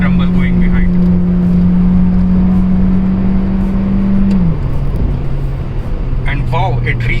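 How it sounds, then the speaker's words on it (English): A Skoda Slavia TSI accelerating, its engine and exhaust droning steadily up through the revs with a low rumble, then dipping as it shifts, loud and close from inside the car. "this powerful car also generates a very nice throaty exhaust"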